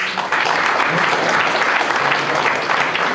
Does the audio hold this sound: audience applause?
yes